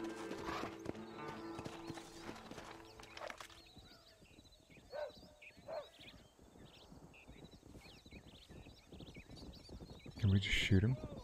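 Horse hooves clip-clop in the Red Dead Redemption video game, a rhythmic trotting patter under game ambience with a brief whinny and scattered effects; people talk over parts of it.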